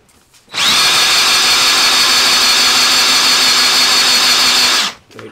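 A Stuart P10b model steam engine, run dry with no oil, spun over by hand gives a steady, loud whirring buzz lasting about four seconds, starting and stopping abruptly, close up with no talk.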